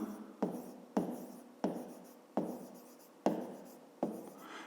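Pencil or pen writing math notes on paper for a fifth-grade volume problem, heard as six sharp scratchy strokes at a steady pace, close and fairly quiet, with no talk over them.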